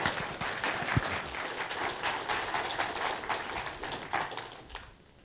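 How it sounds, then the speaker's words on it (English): A tech conference audience breaks into applause, steady dense clapping from a sizable crowd that holds for several seconds and then tapers off near the end. "So let's give him a big round of applause."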